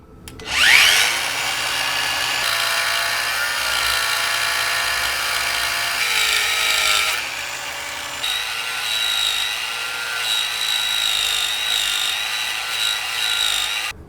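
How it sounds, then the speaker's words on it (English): An angle grinder cuts through a stripped bolt on a BMW E46, a continuous loud, harsh high-pitched whine and scraping grind that shifts slightly in pitch as the disc bites. "I will cut it with the angle grinder"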